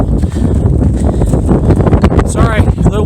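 Loud, gusty wind roaring into the microphone on a hilltop hiking trail, with scattered thumps and a voice breaking through near the end.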